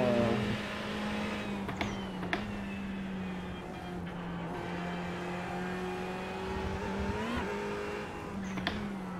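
A GT3 race car engine in the iRacing sim holds a steady, droning high-rev note with a few sharp shift blips and slight pitch swells, loud and continuous with no voices.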